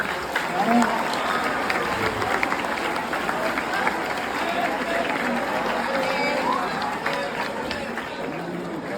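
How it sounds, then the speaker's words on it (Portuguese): A large audience of about two hundred adolescents applauds and cheers in a hall, a dense, continuous roar of clapping mixed with crowd noise and voices that holds steady from start to finish. "Mais uma salva de palmas aí."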